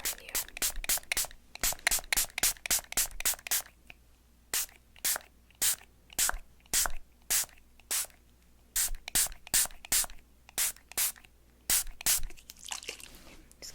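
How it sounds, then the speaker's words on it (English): A spray bottle misting water onto a face during a close, soft-spoken makeup-removal routine, heard as a rapid series of sharp hissing spritzes in quick bursts, repeated many times up close. "I'm just gonna go ahead and spray some water and remove that from your face"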